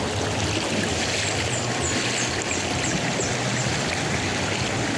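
Mountain stream water rushes steadily in a continuous, full hiss, flowing close by with no pauses.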